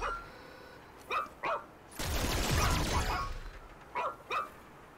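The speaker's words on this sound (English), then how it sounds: "are you barking at, bro?" Robot dog barking in the video game ReCore, a few short sharp yips separated by a louder burst of rumbling action noise in the middle, with no talk.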